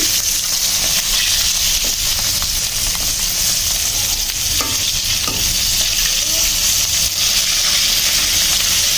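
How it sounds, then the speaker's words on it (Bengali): Local koi fish (climbing perch) frying in hot oil in a Bengali kitchen, a loud, close, steady sizzle and crackle with no pauses or talking. "মাছগুলোকে আগে লাল লাল করে ভেজে নিব"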